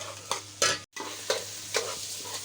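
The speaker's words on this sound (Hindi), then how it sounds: "प्याज थोड़ी सी नरम हो जाती है" Onions sizzle in a pan while a spoon stirs them in repeated scraping strokes over a steady frying hiss, with one brief silent break.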